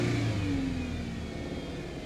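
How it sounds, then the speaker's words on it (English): A Mercedes engine runs with a sustained drone, and its pitch falls a little as it settles after the accelerator is tapped, with no one talking. "I'm just going to tap the accelerator and see if it'll drop it down."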